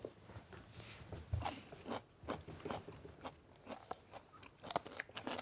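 Crunchy chewing of seasoned food, with crisp bites and repeated close crunches in an uneven rhythm, soft and alone without talk.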